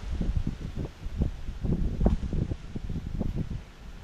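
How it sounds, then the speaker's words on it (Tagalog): Strong wind buffets and rumbles in low gusts, with rustling and rough noise against the microphone throughout. "Napakalakas ng hangin."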